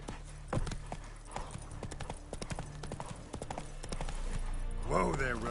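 Roach, a horse in The Witcher 3 video game, gallops with rapid, steady clip-clop hoofbeats up close, while a voice talks over the hooves and a brief whinny-like sweep rises near the end.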